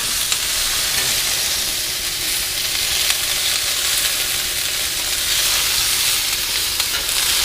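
Tomatillos fire roasting on a grill give off a loud, steady sizzle and hiss that holds evenly throughout with no speech.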